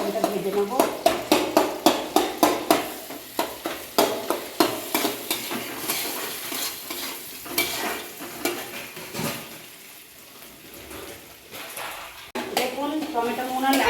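Tomatoes frying in a pan are stirred with a utensil that scrapes and knocks in a steady rhythm of close, sharp strokes over a constant sizzle, which grows softer midway.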